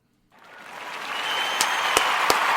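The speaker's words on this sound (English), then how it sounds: "I want to give all the Ujamaa babies a round of applause again" An audience applauds for the Ujamaa babies, hand-clapping rising quickly from silence into a steady patter with a few sharp, close claps.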